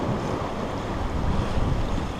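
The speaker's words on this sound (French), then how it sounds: "Les vagues nous emmènent, nous font abattre." Sea waves and wind rush steadily around a sailboat sailing from Port Grimaud toward Cap d'Antibes at over 5 knots, with waves pushing it to bear away; a dense, continuous wash with heavy wind buffeting on the microphone.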